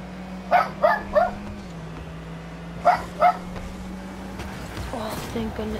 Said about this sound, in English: Bingo, be quiet. Oh yeah, my dog's name is Bingo.